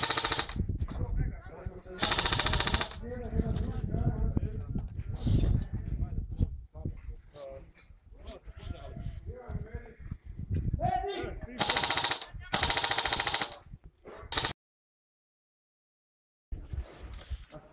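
Video game gunfire comes in repeated automatic bursts and single loud shots, some close and some further off, mixed with players talking throughout and a short silent gap near the end.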